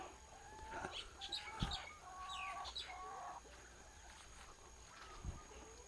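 Chickens in a fenced coop on a small farm cluck and call in a quiet, fairly distant series of short vocalizations, with a couple of soft thumps among them.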